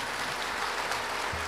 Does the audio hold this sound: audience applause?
yes